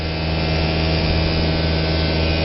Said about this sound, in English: This is a hammer mill.